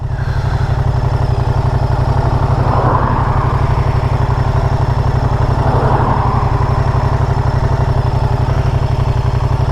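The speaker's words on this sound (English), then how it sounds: "Now then, let's wait for the old transmission lurch as we go into gear. Oh, hey, it's a Moto Guzzi." A Moto Guzzi V100 Mandello S motorcycle engine runs close and loud at a steady idle, its even throb holding throughout with a couple of brief clunky swells as the bike is put into gear.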